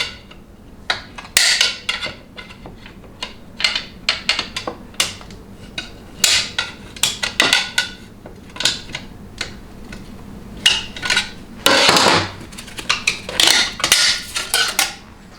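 A notched screwdriver works at a snap ring inside a TH350 automatic transmission, giving a run of sharp metallic clicks, taps and scrapes at close range, with a louder clattering burst partway through.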